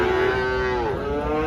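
A young Friesian heifer calf moos once at a cattle market in Faridpur, a loud, close, drawn-out call with a falling pitch that fills the moment.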